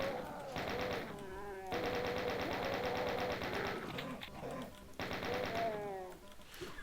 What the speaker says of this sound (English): and now we've got our chain gun.